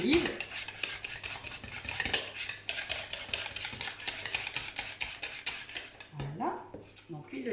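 Batter of yogurt, eggs and olive oil whisked in a bowl for mini cannelés, a steady rapid scraping and tapping that runs continuously and close up, with no talk over it.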